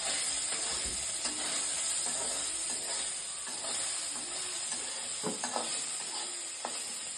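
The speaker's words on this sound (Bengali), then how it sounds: "আমার সিদ্ধ করা সোয়াবিনটা আমি তেলের মধ্যে দিয়ে দিচ্ছি" Boiled soybean chunks sizzle steadily as they fry in hot oil, with occasional stirring clatter and spatter over a constant close hiss.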